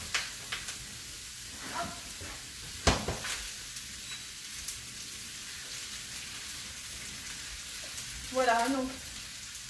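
Courgettes frying in a pan on a stovetop, a soft steady sizzle running throughout with a few louder clatters and brief spoken words near the end.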